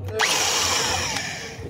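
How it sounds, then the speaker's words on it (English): Power drill with an 8 mm bit boring into a Toyota cylinder head cover during a spark plug thread repair, a loud whining bite that starts sharply and holds a steady high drone, close and alone. "So we can use any bigger drilling bit."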